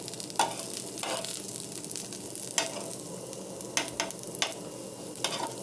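Bitter gourd fries in oil in a pan over low heat, with a steady sizzle and sharp scraping clicks from stirring scattered throughout.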